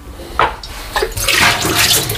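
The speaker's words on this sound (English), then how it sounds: "I'm going to start by dumping my water." Water being dumped out before making pour-over coffee: a short rushing, splashing pour lasting about two seconds, fairly loud and close, with no talk.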